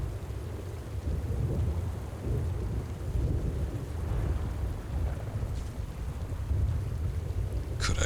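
In the game Below, rain falls heavily and steadily with a low rumbling thunder underneath, a loud continuous wash without talk and a brief sharp crackle near the end.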